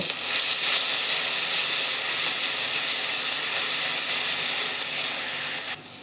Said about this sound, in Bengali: আমি এখন এই তেলে পেঁয়াজ কুচি দিয়ে দেব, এটাকে আমি অল্প ভেজে নেব।